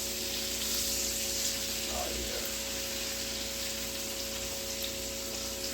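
Pork chop frying in a pan, a constant close hiss and sizzle of hot fat with a brief scrape or clatter as the chop is handled midway.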